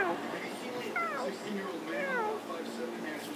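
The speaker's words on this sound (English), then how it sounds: "What is it, Mr. Cat?" A cat meows in the video game Minecraft, with two rising-and-falling calls about a second apart over steady background game noise, while a person talks alongside.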